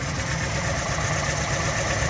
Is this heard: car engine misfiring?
yes